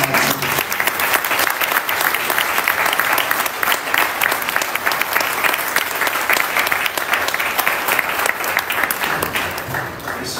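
Sustained audience applause fills a ceremony hall in the USA, a dense, steady roar of many hands clapping at once, loud and close throughout with no break.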